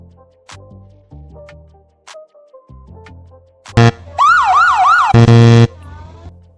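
A loud siren wails in repeated rising-and-falling sweeps, preceded by short electronic blips and tones, then cuts off abruptly.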